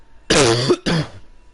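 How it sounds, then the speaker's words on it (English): Two short, loud coughs from a sick man, the first rougher and more like throat clearing, then a brief gap before the second, close to the microphone with no talk. "sorry about the coughs"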